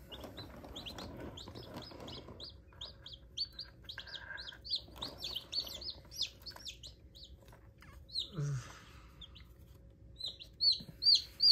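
Newly hatched chicks on a farm peep continuously in a rapid, overlapping stream of high chirps, with a few louder, closer calls near the end and faint background rustling.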